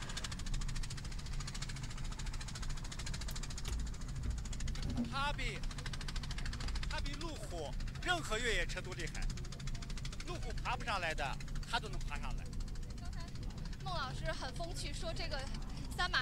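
A tractor engine runs at a mudslide rescue site in mountainous northwest China, a steady low knocking rumble throughout, with people talking over it for much of the time.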